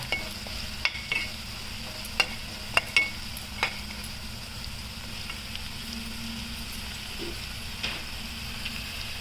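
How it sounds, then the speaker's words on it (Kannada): Bitter gourd fries in oil with a steady sizzle in a pan while a utensil occasionally clinks and scrapes against it. "ಫಸ್ಟು ಇದನ್ನು ಹಾಗಲಕಾಯಿನ ಹುರ್ಕೊಳ್ಳಿ ಈ ಥರ"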